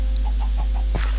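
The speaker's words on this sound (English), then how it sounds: "Oh, chicken as well." Minecraft chickens clucking in the video game, a few soft repeated clucks in a short rhythmic series followed by a louder burst near the end, over a steady low hum.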